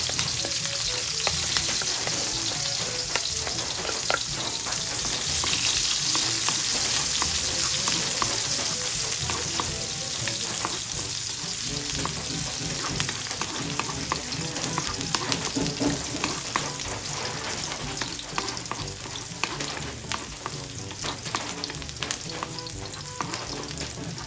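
Onion and garlic sauté in a pan for ampalaya with egg, a steady close sizzle and crackle of frying with occasional stirring scrapes, running continuously without talk.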